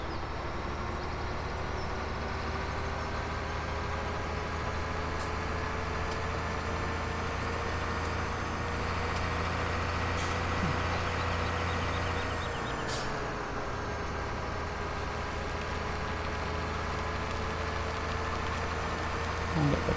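Trucks and cars roll past on a road in the farming game Farming Simulator 17, a continuous low engine drone with passing vehicle whine and a brief air-brake-like hiss, steady and moderately loud without talk.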